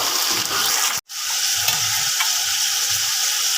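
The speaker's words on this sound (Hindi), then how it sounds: "अब इसमें डाल देंगे हम चिकन और इसको अच्छे से फ्राई कर लेंगे।" Chicken fries for chicken pulao in a pan with a loud, close sizzle and stirring, cut by a brief silent gap near the start before the crackling hiss resumes steadily.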